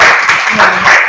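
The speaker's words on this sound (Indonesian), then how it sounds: "Tepuk tangan untuk kelompok malaikat Israfil." A classroom audience claps for a group presentation during a teacher-training session at UIN Maulana Malik Ibrahim Malang, a brief burst of steady, close applause.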